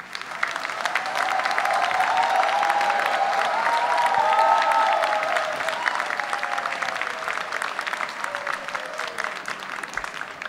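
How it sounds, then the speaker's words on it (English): A large graduation ceremony audience claps in sustained applause that swells and carries on at an even level, with faint crowd murmur underneath. "Please can I ask you to just join me in one last round of applause."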